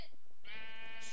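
A single sheep bleat from the video game Minecraft, a drawn-out wavering cry with rich harmonics, heard alone and fairly close after a brief soft blip.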